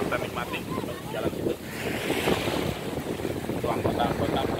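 Surf washes steadily onto Sindu beach in Sanur, Bali, with a continuous rushing wash, wind buffeting the microphone and faint voices in the background.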